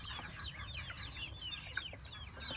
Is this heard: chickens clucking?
yes